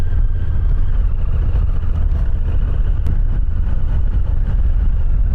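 A Honda NT1100 motorcycle engine runs in gear with a steady low, loud rumble that holds without a break, close by.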